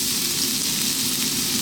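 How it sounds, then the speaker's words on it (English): Chopped ginger hits hot sunflower oil in a wok for a chicken stir fry and gives a loud, dense, continuous hiss of frying that stays steady and close throughout. "We're going to start off by dropping in our chopped ginger,"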